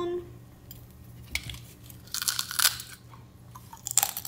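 Someone bites and chews crispy chicharron pork rinds close up, with sharp irregular crunches building in a cluster around the middle and again near the end, under a faint low background hum.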